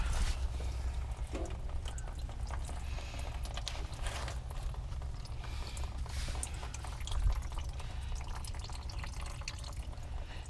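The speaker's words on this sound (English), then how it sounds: "there's actually not as much water coming out as I thought there was going to be" Water draining from the oil cooler area of a Ford Crown Victoria during oil filter adapter gasket and cooler line work, a continuous close dribble and drip spattering onto a surface, with faint workshop background.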